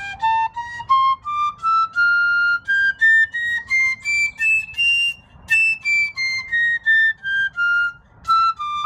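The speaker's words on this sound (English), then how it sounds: "This first one is the piccolo." A piccolo plays a bright, high melody of short separated notes rising and falling in pitch, clear and close with nothing else audible.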